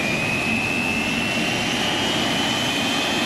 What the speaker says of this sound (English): The engine start switch will crank the engine